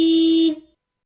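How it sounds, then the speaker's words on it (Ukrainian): A single loud, steady car horn honk lasting about half a second, then quickly fading into silence. "А по сигналить машина."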